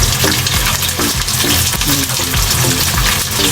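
Chicken deep-frying in hot oil, cooked in batches: a loud, dense, continuous crackling sizzle with bubbling pops, close up and steady throughout.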